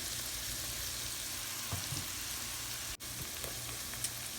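Minced garlic sizzling in a soup pot with carrots, a steady close crackling fry throughout, with a faint clink of a utensil, no voices.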